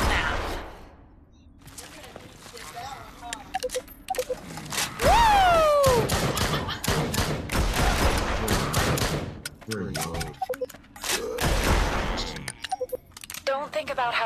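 Two guns fire in the video game Drop Dead: Dual Strike. Rapid bursts of shots go off again and again, loud and close, mixed with game effects and voices that talk over much of the action.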